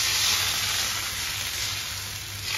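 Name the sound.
ghavan batter sizzling as it is poured onto a hot pan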